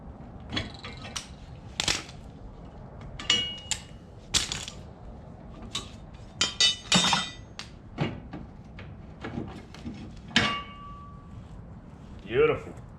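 Clamps being removed from a spot-welded trailer hitch for a Deere rider mower: scattered metallic clanks, knocks and scrapes at close range, irregular and separated by pauses, with a voice speaking at times.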